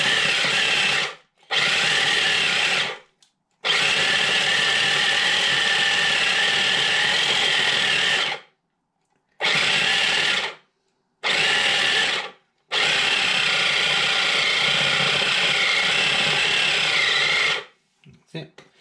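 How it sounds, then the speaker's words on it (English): A food processor pulses an energy ball mixture in several loud whirring bursts of uneven length, the longest lasting several seconds, separated by short silences. "Put the lid on your food processor. Slip it in and just pulse it briefly."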